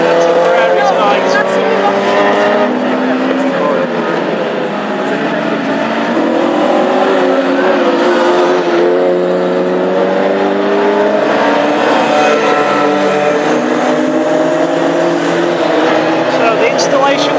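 Classic hot rod race cars lapping a track on installation laps at Tipperary under the lights, a loud sustained engine roar with shifting revs and passing drones, while a commentator talks over it throughout.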